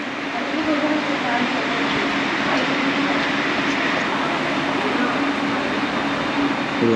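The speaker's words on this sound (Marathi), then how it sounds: "आता मेमो ट्रेन चिपळूणपर्यंत दाखवतो" A steady rumble and rattle of a MEMU train in motion, heard from inside the carriage, continuous and even throughout.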